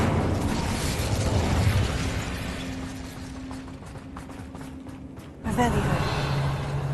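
A fire spell cast in Hogwarts Legacy bursts out as a roaring, whooshing blast that holds steady for several seconds, cuts off sharply, then flares again, loud and close over a continuous game soundscape.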